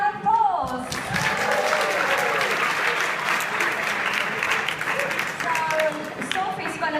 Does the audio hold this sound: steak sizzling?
no